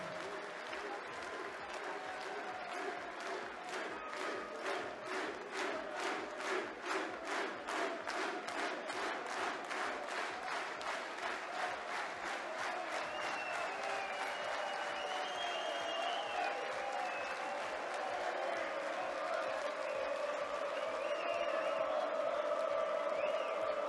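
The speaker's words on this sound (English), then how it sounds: "He milks the applause." A large crowd at a darts tournament applauds steadily, claps rising then blending into a dense roar with scattered cheers toward the end.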